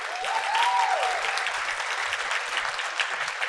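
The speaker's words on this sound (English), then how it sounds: "can we please give a big round of applause to Caroline?" An audience at a keynote speech applauds Caroline with steady, dense clapping throughout, and a brief whoop or whistle rises near the start.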